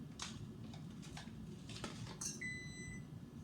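An oven signals that preheating is done while tofu is prepared, a short steady electronic tone near the end over a low kitchen hum and faint handling noises.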